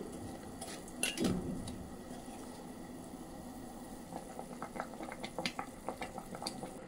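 Fried bread pieces are stirred through bubbling sugar syrup in a pan for bread halwa, with a scraping clatter early on and soft, irregular stirring and simmering after, fairly quiet.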